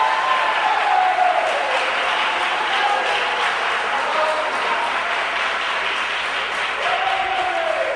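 A church congregation applauds for Jesus in a large hall, a dense sustained wash of clapping from many hands with a faint voice rising over it now and then.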